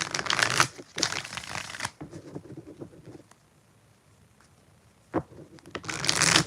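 Tarot cards are shuffled in several loud, dense riffling bursts with quieter gaps between them, close to the microphone.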